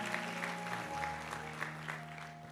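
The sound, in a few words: applause from a church congregation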